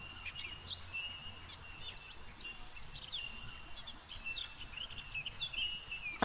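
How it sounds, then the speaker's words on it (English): Birds chirp and tweet indoors in the psychological horror video game Nevermind, a quiet scattering of short high calls over a low hum, with no one speaking. "how did the birds get in?"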